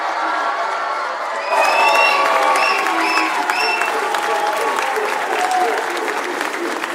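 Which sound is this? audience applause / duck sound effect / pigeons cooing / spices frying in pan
audience applause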